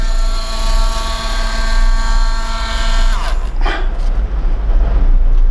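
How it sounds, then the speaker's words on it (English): A power drill runs steadily at close range with a high whine while boring a hole in a cigar box guitar, cutting out partway through, after which faint handling noise remains. "I'll put my drill, turn my drill on."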